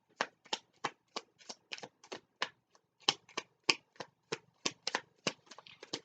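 A Mystic Mondays tarot deck being shuffled by hand, producing a steady run of crisp riffling card flutters and slaps in quick rhythm, close and clear with no talking.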